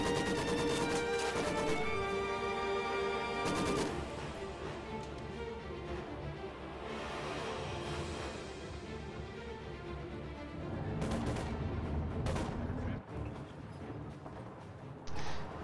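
Dense real-time strategy battle with overlapping gunfire, crashes and mechanical clatter, a continuous loud wall of combat noise with sharp bursts near the end, no voices over it.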